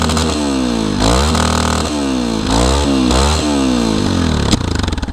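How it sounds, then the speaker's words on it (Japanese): Yamaha Tricker motorcycle with an aftermarket muffler, its engine revving up and down in close, loud surges, then sputtering with a burst of popping afterfire near the end. "ちょっとアフターファイヤーは出るな。"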